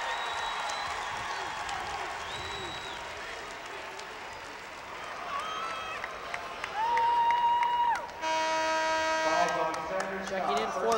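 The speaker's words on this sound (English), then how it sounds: "Jason Gottlieber gets a round of applause as he heads to the Aggie bench" Basketball crowd at a 1988 Class D high school final between Northport and Beal City applauding a player heading to the bench, sustained crowd noise and clapping in a gym with buzzer-like tones and talk mixed in.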